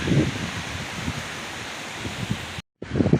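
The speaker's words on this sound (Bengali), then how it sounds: "যেহেতু বাতাসটা বইতেছে অনেক সুন্দর ঠান্ডাও লাগতেছে" Cool wind blows steadily outdoors as rain approaches, a broad rushing hiss with small gusts and a leafy rustle that cuts out for a moment near the end.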